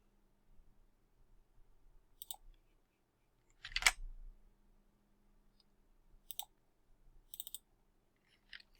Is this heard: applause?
no